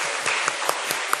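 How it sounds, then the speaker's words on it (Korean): A church congregation at a Wednesday service claps together, a brief, dense, steady burst of applause filling the room. "우리 8학년을 위해서 박수"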